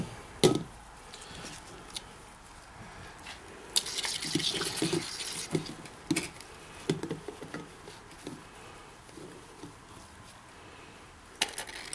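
Wet gold-recovery material from electronics fingers, cell phone boards and pins, leached with HCl, is rinsed with water, giving a faint steady patter and trickle with occasional louder splashy bursts, no talk.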